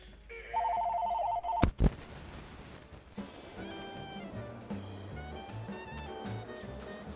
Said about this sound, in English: Phone's ringy dingy dingy.